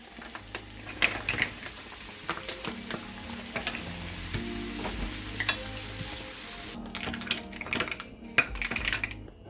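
Tomato and mussels sizzle in a pan, a steady frying hiss broken by scattered clicks and clatters of stirring and shells, close and without talk.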